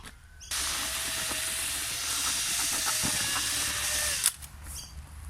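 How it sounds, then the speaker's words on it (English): An air compressor struggles under load, giving a loud continuous hiss with a faint tonal whine that runs for about four seconds before cutting off, with quieter sounds before and after. "I need a better air compressor, eh? It's just struggling to keep up with this."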